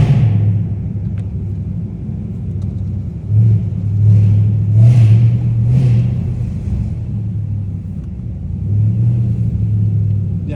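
A catless, straight-piped Dodge Challenger Hellcat Redeye idles loud and close, a deep, steady rumble that swells with a couple of light revs before settling back to its throbbing idle.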